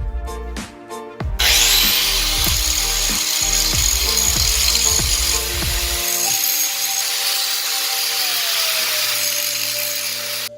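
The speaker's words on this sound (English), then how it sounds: "I'll just go ahead and take a grinding wheel," A grinding wheel cleaning up hard metal edges on a T56 transmission, with a rhythmic series of loud rasping strokes before settling into a steady close whine that fades slightly toward the end.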